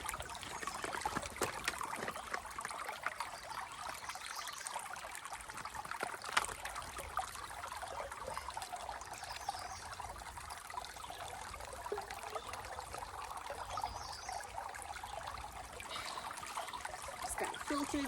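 Water trickles steadily at a small water source beside a hiking trail, a soft continuous burble that runs unbroken throughout.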